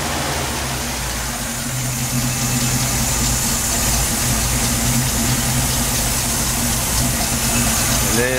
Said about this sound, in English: it's idling about 1100 RPM right now